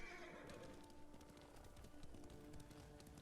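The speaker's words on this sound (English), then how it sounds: "Oh, my horse jumps by itself." Horse in the video game Ghost of Tsushima whinnies and its hooves clip-clop steadily at a gallop, close and fairly loud, with game ambience underneath.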